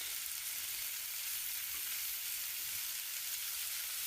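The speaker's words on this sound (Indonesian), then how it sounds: "Itu suara orang memasaknya jelas banget." Continuous bright hissing and crackling of food sizzling in hot oil, steady and even throughout with no voices.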